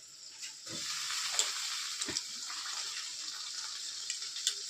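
Brinjal pieces sizzle in a hot pan in a home kitchen, a steady hissing fry with a few soft thuds as pieces drop in, fairly quiet and close with no talk.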